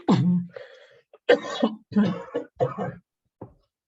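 A person with flu coughs several times in short, harsh bursts spaced a second or so apart, close to the listener.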